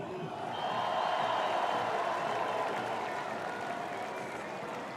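Crowd applause at the opening ceremony of the Fêtes de Bayonne 2025, a dense, steady wash of clapping from a large audience, somewhat distant, sustained for several seconds without a break.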